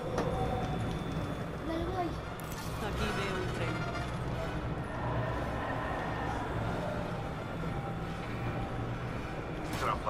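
A moving train in Apex Legends rumbles and clatters continuously up close with metallic knocks, while players talk over it.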